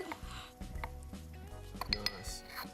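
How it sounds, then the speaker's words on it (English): Garlic pounded in a mortar and pestle gives a few sharp, close clinks and knocks over a short stretch, with someone talking quietly underneath. "give it a good pounding. Mortar and pestle, a lot of people have them, not many people use them."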